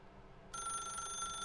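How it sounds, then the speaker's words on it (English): A telephone starts ringing in The Stanley Parable video game, a sudden steady electronic ring that begins partway through and continues loudly to the end, with no talking. "then pick up the phone"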